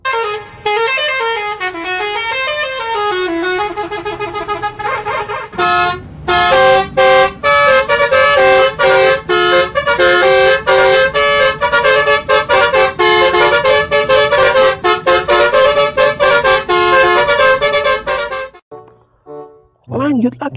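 A Restu Panda bus blares a loud musical horn, with a rising and falling melodic tune followed by long runs of rapid, rhythmic tooting notes. The horn sounds close and loud and keeps going almost without pause before it cuts off near the end.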